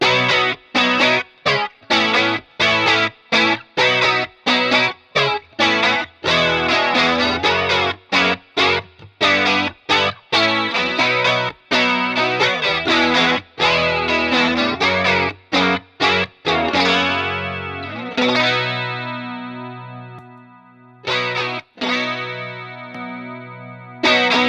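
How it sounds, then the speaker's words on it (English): Electric guitar played through a buffered Boss CE-1 chorus with a Moore pedal acting as a level boost, bright shimmering chorused chords and single notes ringing loudly, ending in a sustained wavering chord. "we have our lovely, bright, defined sound of the CE1 by giving it a buffered signal, and then we can boost the output"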